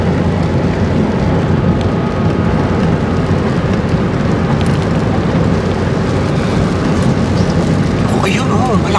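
Rain begins to fall in a loud, dense and continuous rush that fills the whole stretch, with a faint whistling tone near the end.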